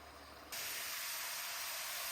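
Fries bubble in hot oil at a campsite, heard as a dense, steady hiss that switches on abruptly after a brief quieter moment and then holds loud and unbroken.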